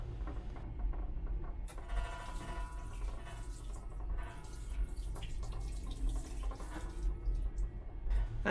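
Tap water runs steadily into a small sink in a train toilet as soap is rinsed off hands, a continuous splashing gush with faint drips and mechanical rattles beneath, no voices.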